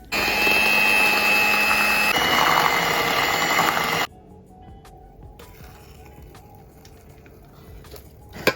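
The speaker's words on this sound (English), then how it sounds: "later on you can also mix it up with the machine" An electric mixer whirs loudly and steadily in chocolate cake batter for about four seconds, then stops, leaving quiet kitchen room tone and a small clack at the end.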